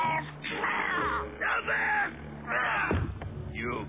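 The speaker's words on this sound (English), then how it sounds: "Stow that squawking." A cartoon bird squawks and caws repeatedly in harsh, raspy bursts, loud and close, with a voice mixed in among the cries.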